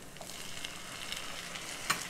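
Chopped tomatoes frying in a pan for Kerala-style kadala (chickpea) curry, giving a steady soft sizzle with light stirring scrapes and a brief clink near the end.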